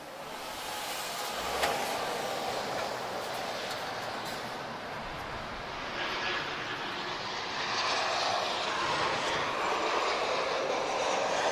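Transavia France airliner arriving at Lisbon Airport inbound from Nantes, a broad, steady jet roar that swells gradually, heard from a distance without talking.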